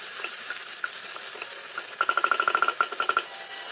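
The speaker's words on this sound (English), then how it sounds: "Next goes in the tomato. Fry the tomato well." Tomato frying with ginger garlic paste for a Goan pulao, a soft sizzle under a quick run of rhythmic spoon taps and clinks against the pot, close and fairly quiet, without speech.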